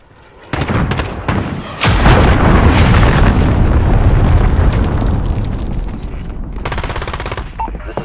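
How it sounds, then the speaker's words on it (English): Cruise missile explosion in Call of Duty: Modern Warfare: a sharp blast hits, then a louder, sustained roaring boom with rumbling debris fills the scene, staying loud for several seconds before slowly tapering. "Enemy cruise missile incoming!"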